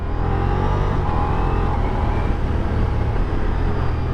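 A Ducati Diavel V4 motorcycle engine drones loud and steady under acceleration, a dense continuous roar heard from on board with no break.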